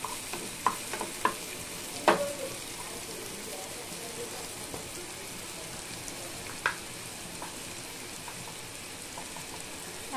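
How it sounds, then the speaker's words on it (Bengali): Chopped onions fry in a pan for a fish and pointed gourd curry, giving a steady soft sizzle with occasional stirring clinks and scrapes, fairly faint and continuous throughout without talk. "আমি পেঁয়াজটাকে একটু সুন্দর করে বাদামি কালার করে নিব।"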